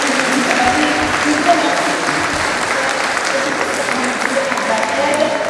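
A crowd claps continuously at a steady, loud level during a Haitian Creole Catholic Mass, dense applause filling the whole stretch with no pauses.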